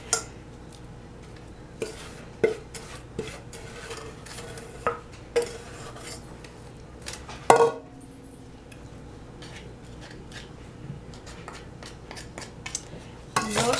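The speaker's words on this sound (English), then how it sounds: "Spread it all over the cake." Topping is spread over a baked coconut brown sugar cake in its pan, with quiet, close scraping and a few sharp utensil clinks against the pan scattered through the spread.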